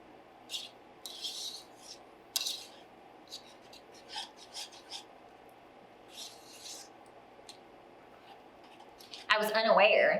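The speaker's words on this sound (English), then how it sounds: "we're just gonna stir that into the sauce that we have until it melts" Shredded cheese is stirred into a mac and cheese sauce, giving intermittent soft scraping and rasping strokes against the pot, with a louder burst of scraping at the end and a low voice now and then.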